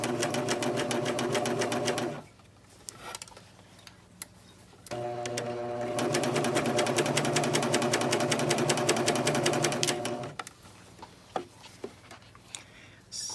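A serger sewing machine stitches a baby bandana bib in rapid mechanical bursts, running for about two seconds and then for about five more, with quiet pauses and a few light clicks between runs.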